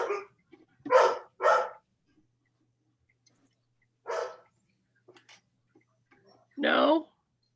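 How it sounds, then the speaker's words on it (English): A dog barks in short separate bursts, two quick close barks, then a single one and a longer final bark after pauses, loud against a quiet indoor background. "Somebody has a doggy."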